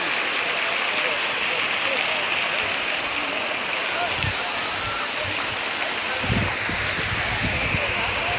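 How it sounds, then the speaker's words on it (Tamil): A fountain at Brindavan Gardens in Mysore sprays water that drizzles down like rain, giving a steady, dense hiss of falling droplets throughout, with a few low bumps and faint speech-like sounds in the background. "ட்ரிஸ்ஸில் இப்படி ஒரு மழை பெய்கிற மாதிரி இருக்குது"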